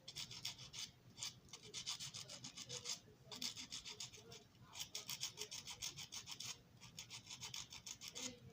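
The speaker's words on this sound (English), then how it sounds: "Clean this spindle too while we're at it. Get it nice and shiny." A metal spindle from a Lionel Tie Jector is rubbed and polished by hand in quick back-and-forth strokes, a soft, close, rhythmic scrubbing with brief pauses between bursts.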